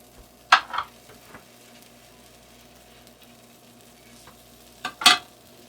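Bread pizza slices are set down on a greased tawa, and two short clatters sit about four seconds apart over a faint steady sizzle and low hum, with no talking.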